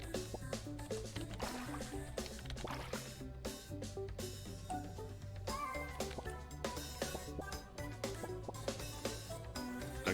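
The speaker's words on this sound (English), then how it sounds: "Meow." A cat meows in the video game Turnip Boy, a soft game sound set against a continuous backdrop of looping game music.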